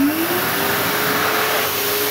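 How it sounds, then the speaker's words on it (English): An automatic hand dryer blasts air in a loud, steady whoosh whose motor whine rises in pitch as it spins up, heard up close with no voices. "the hand dryer will turn on without us even having to press a button"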